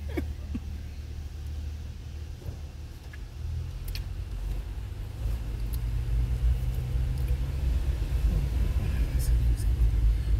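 Cars drive past a spot where traffic is being counted for work, a continuous low road rumble that swells gradually louder toward the end, with no talk over it.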